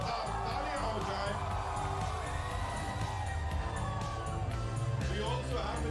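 A large crowd at a film trailer launch cheers and applauds for Nana Patekar, a dense continuous roar of clapping and shouts with voices mixed in.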